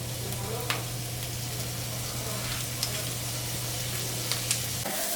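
White and green onions frying in oil, a steady, faint sizzle with a few sharp crackles popping up now and then, with no voices over it.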